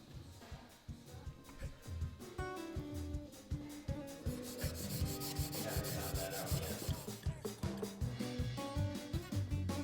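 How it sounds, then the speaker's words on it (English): A knife handle is sanded by hand in a one-day forged knife build, a repeated rubbing rasp in quick back-and-forth strokes, close up, mixed with a faint tonal background. "the handle needs a little more TLC, probably just some hand sanding"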